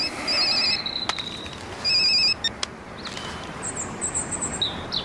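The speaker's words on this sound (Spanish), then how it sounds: "Coge el móvil." A mobile phone rings with a bright electronic ringtone in two loud bursts with a pause between, close by and then stopping, with some chirpy high tones afterward and no speech.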